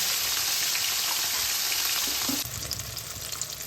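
Steady, dense sizzling and crackling of rohu fish frying in hot oil in a kadai, close and continuous, with a brief clatter partway through.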